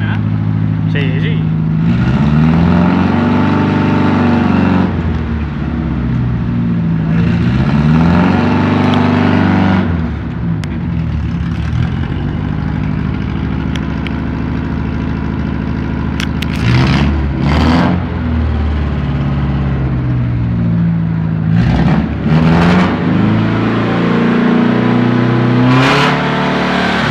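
A Citroen GS Club 1.2 car engine runs and revs while driving, rising and falling repeatedly, loud and close throughout, with people talking over it.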